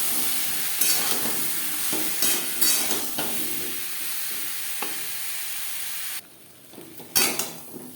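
Potatoes frying in a wok, a loud continuous sizzle broken by stirring scrapes and clanks of a utensil, dropping away near the end before a final clatter.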